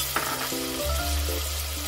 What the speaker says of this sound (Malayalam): ഇതിന്റെ പച്ചമണം മാറുന്നവരെ നമുക്ക് വഴറ്റി കൊടുക്കണം